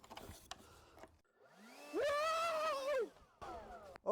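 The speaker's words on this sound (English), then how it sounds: "I'm using this blower right here" A Greenworks 80V battery leaf blower spins up into a steady, loud whine for about a second before winding back down, with quieter handling noises on either side.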